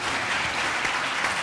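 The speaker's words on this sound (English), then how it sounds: "You want to give them a round of applause?" An audience claps at a senatorial debate held at a university, a dense, steady round of applause from many hands filling the room, with faint voices mixed in.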